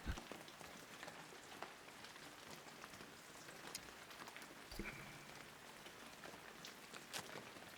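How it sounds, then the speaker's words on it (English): Steady rain falls in the video game Shenmue 3, a soft even patter of drops on surfaces, faint and continuous with no voices. "Walking in the rain."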